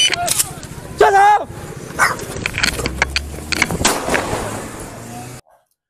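A Maltese dog barks frantically in a few sharp, close bursts, set among street noise, voices and a passing car during a police stop in Luodong, with the sound cutting off abruptly near the end.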